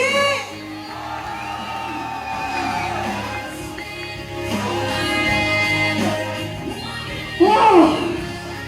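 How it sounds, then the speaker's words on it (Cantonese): Wedding guests at a ceremony in Sihui, Guangdong, cheer after the couple's kiss with mixed whoops, shouts and children's voices rising in scattered bursts around the hall, ending in a loud close yell. "此時此刻嘅歡呼聲係咪要再熱烈啲？"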